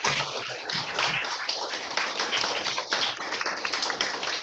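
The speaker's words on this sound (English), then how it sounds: "give her a nice round of applause" Primary school pupils clapping together over a video call, a dense, continuous patter of many small claps, bright and compressed through the call audio, with no talk over it.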